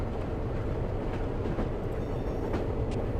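Freight train passing on the rails near Barstow on the BNSF line, a continuous low rumble with faint rhythmic clicks, steady and moderately distant.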